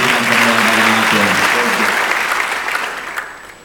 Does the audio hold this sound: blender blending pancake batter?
no